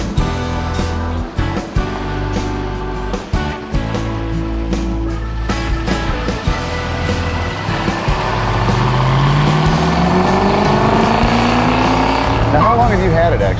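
A classic Ford Mustang convertible engine cranks and catches with the key, then idles with a loud, steady rumble before revving, its pitch rising near the end; people talk briefly over it.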